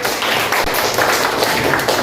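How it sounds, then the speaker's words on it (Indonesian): Students in a classroom applaud a presenting project group, a dense, steady wash of many hands clapping at once that stays fairly loud and even throughout. "Tepuk tangan untuk kelompok 1"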